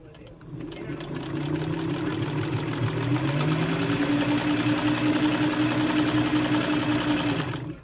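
Kenmore 95 sewing machine stitching in reverse, a steady close mechanical whir with a fast rhythmic needle chatter that starts after a brief pause and runs evenly to the end.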